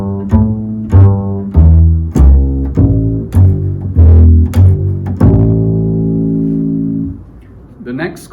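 Bass guitar arpeggio in a bass masterclass, outlining a dominant seventh chord: root, flat seventh, fifth, then back to the root. Roughly a dozen plucked notes in a steady rhythm, close and loud, ending on one long sustained note.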